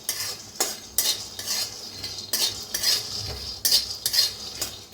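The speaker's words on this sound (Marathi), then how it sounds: "छान असं शेंगदाणा भाजून घेऊया" Peanuts dry-roasting in a pan while being stirred, with repeated scraping and rattling strokes of a spatula against the metal and a faint sizzle, steady and close with no talk.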